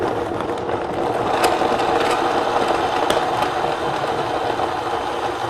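Blender starting on low speed with a frozen fruit protein smoothie made with cottage cheese and date paste, a steady loud motor drone with faint rhythmic knocking as the chunks churn, close by with no talking.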